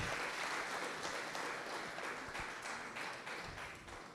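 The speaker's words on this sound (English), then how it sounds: "this applause is too small for your chairman. Put your hands together." An audience at an Edo State command event applauding, a thick, continuous burst of many hands clapping, loud and steady, thinning slightly toward the end.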